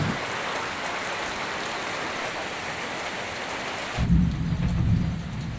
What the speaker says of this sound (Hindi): बारिश का बूंदे जो है थोड़ा सा छोटी हो गई, लेकिन भाई साहब गिर रहा है बारिश।